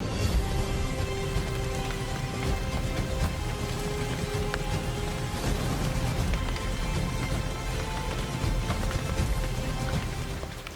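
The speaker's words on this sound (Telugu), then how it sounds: "Let the rain begin." Artificial rain pours steadily and loudly onto a reality game show stunt set, a dense continuous hiss and patter of spray and drops with no talk over it.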